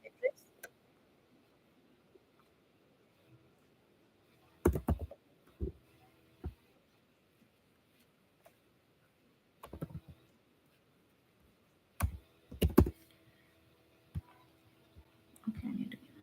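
An email address is typed on a computer keyboard in scattered bursts of quick, close key clicks separated by quiet pauses, with faint room hum between the bursts.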